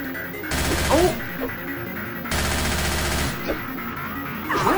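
Bursts of rapid machine-gun fire in a Madness Combat animation, two loud sustained volleys separated by pauses, with impact and ricochet sounds between them.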